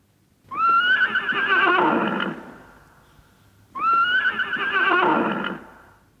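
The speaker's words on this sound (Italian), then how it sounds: "Nitrito del cavallo." Two loud, close horse neighs follow one another, each starting with a high squealing rise and breaking into a shaky, fluttering whinny before fading.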